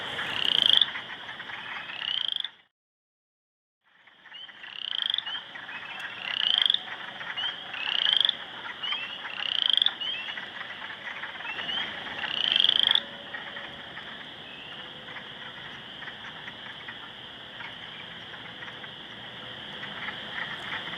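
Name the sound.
chorus frog croaking in dead leaves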